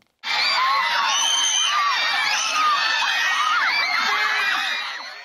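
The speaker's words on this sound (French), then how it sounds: "c'est finalement les hurlements qu'ils provoquaient chez leurs fans" A crowd of Tokio Hotel fans screams and shrieks continuously at high pitch, a dense, loud wall of overlapping cries and whoops that holds steady for several seconds before easing slightly at the end.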